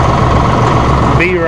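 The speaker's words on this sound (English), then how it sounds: "Put her in reverse, raise the loader a little bit. A range, and we're going backwards." A 2016 John Deere 5045E utility tractor engine running steadily and loud while reversing, a low rumbling drone with a rising whine near the end and a voice speaking over it.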